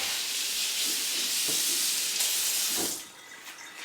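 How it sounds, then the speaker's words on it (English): Tap water runs steadily into a kitchen sink, rinsing a microfiber mop pad: a continuous close hiss and splash that eases off near the end. "I just take it over to my sink, run the water over it real quick"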